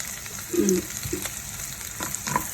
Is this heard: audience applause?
no